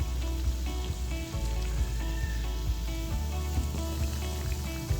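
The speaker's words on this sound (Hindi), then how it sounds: "कुकिंग ऑयल के नीचे मैंने फ्लेम ऑन कर दी थी और अब हम इसे फ्राई होने के लिए थोड़ी देर के लिए छोड़ देंगे।" A sandwich fries in cooking oil over an open flame, giving a steady, close sizzle with scattered crackles and pops that continues without pause the whole time.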